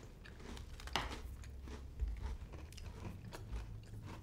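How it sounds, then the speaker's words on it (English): Soft biting and chewing of a vegan holiday cookie with chocolate crumble, a rich filling and candy cane pieces, close and quiet, with faint crunches and mouth sounds and no talk. "Oh, the little crunch of candy cane is fun."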